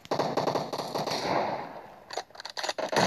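A grenade blast in the video game PUBG Mobile, a burst of sharp crackling bangs followed by a rapid string of loud gunshot-like pops, close and harsh, with no voices.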